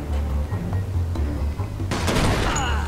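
Gunfire from the video game Mafia 2 runs through most of the moment, with a sharp burst of shots near the end over a steady low game rumble.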